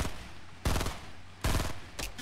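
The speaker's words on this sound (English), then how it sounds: "That's what I'm shooting at." Gunfire in Fortnite Battle Royale, three quick loud bursts of rapid shots spaced about a second apart over constant game background noise.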